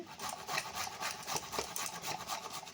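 Fresh ginger grated by hand on a kitchen grater, a steady close rasping scrape repeated in quick strokes with no talk over it.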